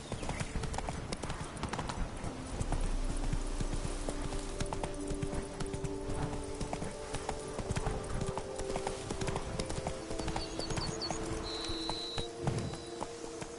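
The horse Roach from The Witcher trotting, with steady rhythmic hoof clip-clops carrying on throughout at moderate volume alongside game ambience.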